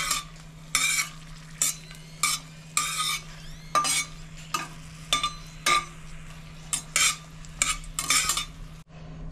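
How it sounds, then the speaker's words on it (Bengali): Flat beans fry in hot oil with a steady low sizzle while a utensil stirs them in the pan, giving repeated scraping, clinking strokes in an irregular rhythm, close and fairly loud, with no talking. "হালকা হালকা ভাবে ভাজতে থাকবে, এইভাবে নাড়িয়ে নাড়িয়ে ভাজবেন,"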